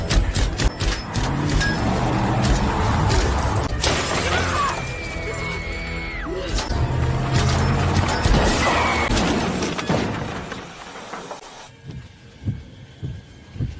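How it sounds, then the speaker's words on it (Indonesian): Film scene where a car riddled with gunfire crashes into a pole: dense loud impacts and shattering crashes with a rumbling engine, then a quieter stretch of scattered knocks and debris. "Ash kemudian keluar dan menembaki mobil Darby hingga menabrak tiang dan membuat mereka pingsan"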